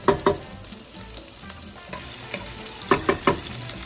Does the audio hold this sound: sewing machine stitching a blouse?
no